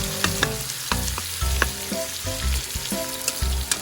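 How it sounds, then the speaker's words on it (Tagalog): Garlic and onions sautéing in hot oil in a pan, a busy close sizzle broken by repeated clattering stirs of a utensil against the metal. "So, let's have our bawang at sibuyas. Ayan, gigisa lang natin yan guys."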